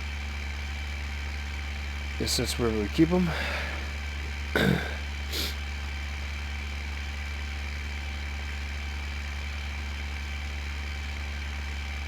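A tractor engine idles steadily in a farming simulator game, a constant low drone running throughout with a few brief voice sounds on top partway through.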